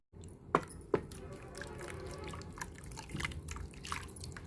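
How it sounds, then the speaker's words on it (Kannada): Rinse water from a blender jar is poured into a pot of cauliflower soup, giving two sharp splashes, then scattered drips and small trickles at low volume. "ಒಂದು ಸ್ವಲ್ಪ ಜಾರ್ ತೊಳೆದು ಕೂಡ ನೀರು ಹಾಕ್ತಾಯಿದ್ದೀನಿ."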